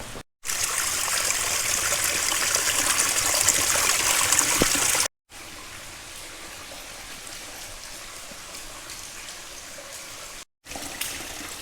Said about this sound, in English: Okay, loads of water coming up now